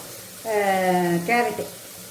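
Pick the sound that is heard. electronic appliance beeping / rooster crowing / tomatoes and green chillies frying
tomatoes and green chillies frying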